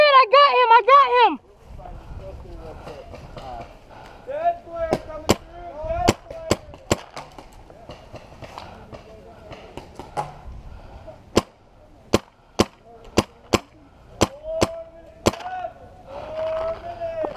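Gunfire in a team shooter video game: sharp, loud synthetic shots, a few spaced singles and then a faster string of about eight, over low game ambience, with a voice heard briefly at the start.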